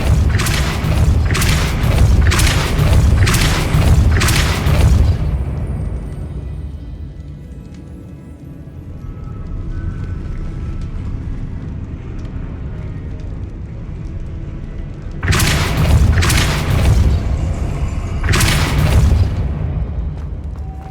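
In the Hogwarts Legacy video game, the Depulso spell sets off a deep booming blast over a low rumbling ambience. A run of pulsing hits comes first, then a quieter lull, then more impacts at the end.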